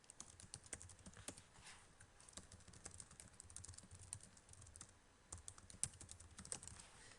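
Rapid typing on a computer keyboard, a steady stream of close, crisp key clicks with uneven rhythm and occasional heavier strokes, alone without talk.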